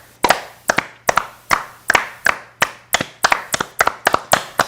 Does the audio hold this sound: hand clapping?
yes